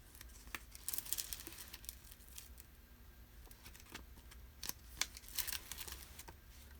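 Vinyl decal being peeled and burnished off its backing on a tumbler project makes quiet crinkling, scraping rustles in short irregular bursts, close and soft, with no talk.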